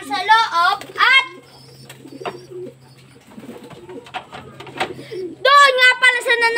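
A rust-colored pigeon coos softly in a low, steady tone, while someone talks loudly nearby at the start and again at the end.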